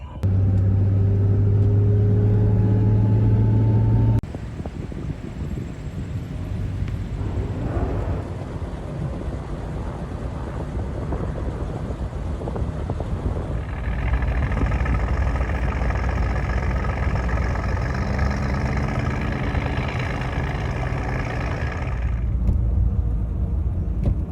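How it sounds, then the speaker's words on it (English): Engine of a 1971 Jaguar XJ6 on the move, a steady low rumble that shifts pitch midway as speed changes, with no talking over it. "This year I'm driving my 1971 Jaguar XJ6."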